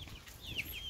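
High chirping peeps from small silkie chicks, several short calls over a low rustling background, fairly close.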